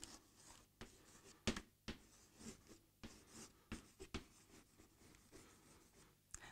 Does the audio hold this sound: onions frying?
no